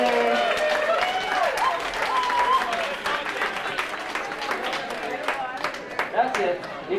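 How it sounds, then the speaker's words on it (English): A crowd claps for the class officers at the Tyee High School Class of '75 ten-year reunion, a steady round of applause with voices calling out and talking over it throughout. "Give them a big round of applause."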